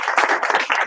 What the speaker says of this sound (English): Give 1 clap, 2 claps.